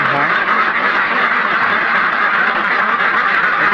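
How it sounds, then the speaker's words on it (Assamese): Domestic ducks on a farm quack loudly and continuously, a dense overlapping chorus from a flock close by. "আমাৰ হাঁহ"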